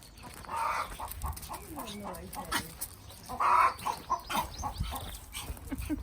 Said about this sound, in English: Ah, chickens! Oh, noisy, aren't they?